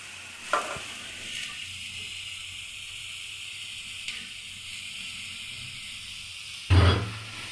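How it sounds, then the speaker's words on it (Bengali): Chopped raw papaya sizzles steadily in a pan with fried onion, a constant soft hiss broken by a few scrapes and a louder clatter near the end. "এখন আমি এটাকে একটু ভেজে নিব"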